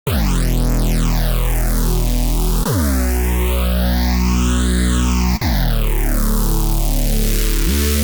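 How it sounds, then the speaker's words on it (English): A loud, sustained synth bass tone with sweeping phaser notches gliding up and down, restruck twice, each note swelling with swirling, moving resonance. "Then we could add some more movement with something like a phaser"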